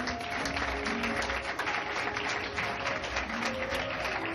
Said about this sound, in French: On acclame le Saint-Esprit.